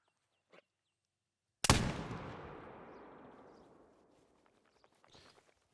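A single loud hunting rifle shot rings out in theHunter: Call of the Wild on the Emerald Coast, its blast decaying in a long rolling echo over several seconds, with a faint click just before and small rustles afterward.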